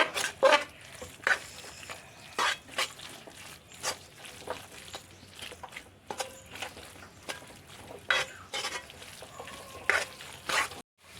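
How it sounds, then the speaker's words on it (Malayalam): Spice masala being stirred in a frying pan while a roasted-ground chicken curry is cooked, heard as faint, intermittent scrapes and clicks of the spoon against the pan over a low background. "ഒരു മുക്കാൽ സ്പൂണ് മസാല നമുക്ക് നന്നായി ഇളക്കി കൊടുക്കാം"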